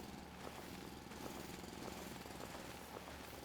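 Continuous mechanical drilling in the factory-building video game Foundry, a steady rumbling grind with faint rhythmic pulses, held at an even level throughout with no voices.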